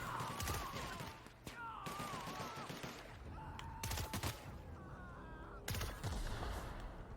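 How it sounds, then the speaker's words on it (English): Video game combat in The Outer Worlds: bursts of heavy gunfire and sharp explosive blasts in irregular clusters, with whistling, warbling effect tones between shots, loud and close. "And nasty explosions around them too."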